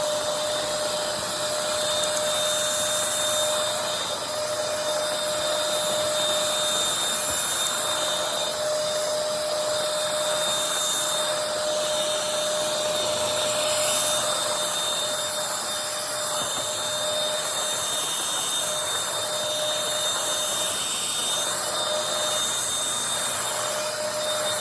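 A Bissell 3-in-1 Turbo Stick model 2610 vacuum, trash-picked and only needing cleaning, runs steadily over carpet with a loud, constant motor whine and brush drone, close and unbroken.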